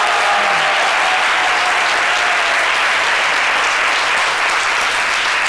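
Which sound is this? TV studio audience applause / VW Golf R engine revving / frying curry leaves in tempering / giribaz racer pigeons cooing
TV studio audience applause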